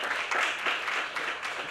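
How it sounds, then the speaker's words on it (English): Dense, steady applause from an audience at a JoyNews Impact Makers awards ceremony, a continuous wash of many hands at moderate level throughout, with no clear individual claps standing out. "Ladies and gentlemen, a big round of applause for Andrew Agyepong Boateng."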